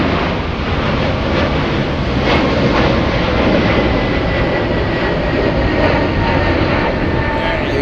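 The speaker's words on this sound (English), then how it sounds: "Let's have the United Airlines 777 on" A United Airlines Boeing 777 at Frankfurt airport gives off a loud, steady jet engine roar that holds evenly throughout, with no talk over it.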